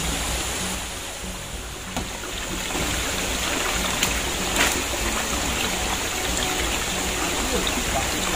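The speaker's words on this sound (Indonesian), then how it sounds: "kita akan berpetualang kembali untuk menyisiri aliran sungai ini nih yang ada di bawah saya" A river stream flows nearby as a loud, continuous rushing wash of water, steady and close throughout, with a few faint clicks from movement.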